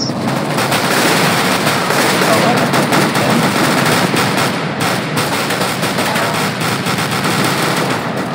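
Dense, loud automatic gunfire in the video game CS:GO, a continuous rattling barrage that lasts the whole stretch with almost no pause, under a faint voice.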